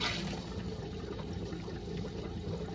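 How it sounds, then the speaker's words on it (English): A camper's water pump pushes water down the line, a steady rushing, hissing flow that holds at an even moderate level throughout, with no voices. "now the pump is trying to bring water down the line"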